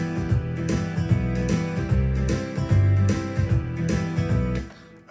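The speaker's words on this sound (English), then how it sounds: "Now the style sounds like this." An electronic keyboard plays a country swing style accompaniment, with a bouncy bass line and chords in a steady shuffling rhythm, clear and up front with no voices.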